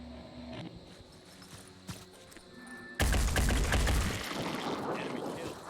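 Gunfire in the Phoenix Point video game, a sudden loud burst of rapid shots that breaks over a quieter ambient game backdrop and then continues as a dense, sustained roar of firing.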